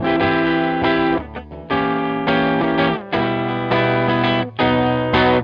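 Electric guitar chords heavily distorted, loud sustained strummed blocks changing in a steady rhythm with brief gaps between chord changes.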